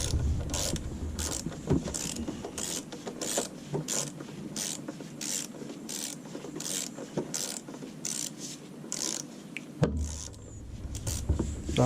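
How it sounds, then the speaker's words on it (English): A 3/8 inch electric torque wrench with a 1/4 inch adapter drives valve cover bolts on a 2011-2014 Dodge Durango, giving a steady mechanical ratcheting whir with rapid clicking pulses that runs continuously and pauses briefly near the end. "It's a 3/8 electric torque wrench"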